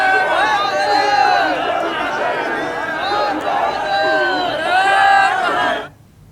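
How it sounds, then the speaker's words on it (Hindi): Crowd of devotees at Shiva temples chanting and shouting in unison, loud overlapping voices rising and falling in repeated rhythmic calls, sustained for several seconds before cutting off abruptly. "इस दौरान बम बम भोले के जयकारों से सभी शिवालय गूंज रहे हैं।"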